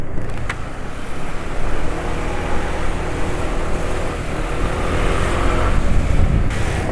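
Steady motorcycle engine idling after an oil change using 20W50 oil mixed with 20% canola oil, a continuous low rumble with even mechanical hum throughout, close and fairly loud.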